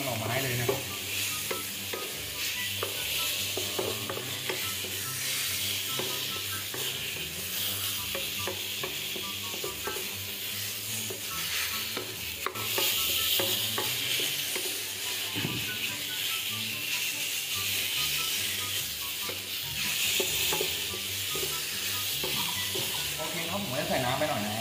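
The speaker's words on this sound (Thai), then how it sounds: "ผัดเป็นหมูประมาณสุกในระดับหนึ่งนะครับเราก็จะลงหน่อไม้เลยนะครับ" Pork and bamboo shoots stir-fry in a hot pan with a continuous sizzle and hiss, overlaid by repeated scraping and clinking of a spatula stirring the food throughout, fairly faint and steady.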